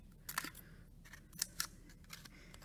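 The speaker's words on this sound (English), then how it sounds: "I'm gonna cut right along that edge" Scissors snipping along the edge of a paper sculpture cylinder, several short crisp cuts in an irregular rhythm, close and fairly quiet with no talking.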